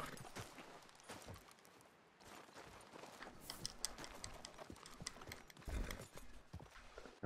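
Horse hooves clop along at a walk in Red Dead Redemption II, a quiet irregular run of soft thuds and clicks with faint rustle, no talk.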